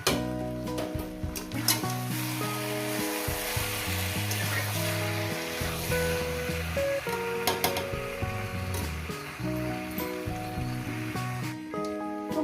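Mutton curry with coriander leaves sautés in a pan, a continuous sizzle and crackle with occasional stirring scrapes, heard close over a steady tonal hum of background music, with no talking.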